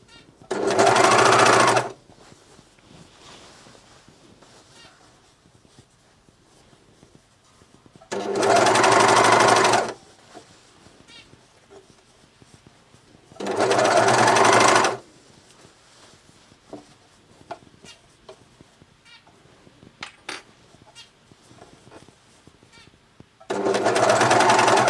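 Juki MCS1500 coverstitch machine stitching a hem on a vest or top, running in four loud steady bursts of about two seconds each, separated by quiet pauses with faint handling noises.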